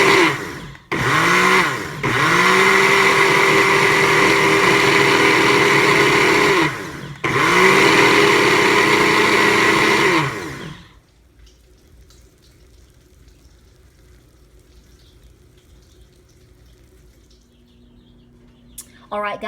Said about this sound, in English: All you're going to do is put all 3 of these items into your blender